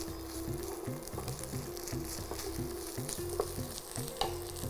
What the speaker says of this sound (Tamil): கருவேப்பிலை வந்து பொரிஞ்ச மாதிரியே வந்து நம்மளுக்கு நல்லா வதங்கிடுச்சது